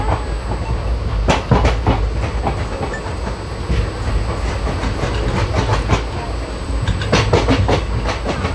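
Prerna Express passenger train rolling into Akola Junction, a steady rumble with sharp rhythmic clicks of wheels over rail joints, loud and close throughout with brief bursts of clatter near the start and end.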